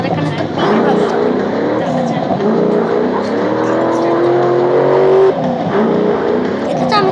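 A car engine in a racing video game revs and whines steadily with a sustained tonal drone, while voices talk over it for most of the clip.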